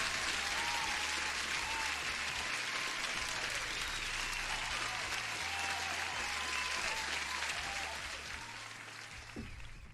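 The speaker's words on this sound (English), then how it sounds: "You deserve the first applause." An audience applauding during a live day-trading futures session broadcast, a dense, steady crowd clapping that holds for most of the stretch and fades slightly near the end.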